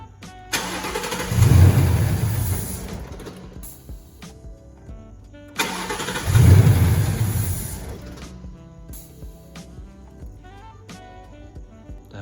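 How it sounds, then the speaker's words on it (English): A 2019 Ford Mustang GT V8 fitted with a K&N cold air intake cranks and fires twice, each start a loud surge that settles into a rough, uneven idle, with a pause between attempts. "I'm gonna turn the engine on and see how it all sounds."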